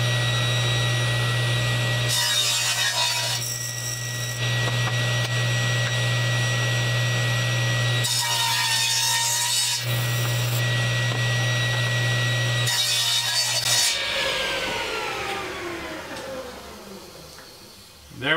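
A saw blade cuts wooden pieces for a Gothic finial cap in repeated passes, its steady motor whine rising into harsh grinding bursts of blade through wood, then winding down at the end, loud and close with no talk.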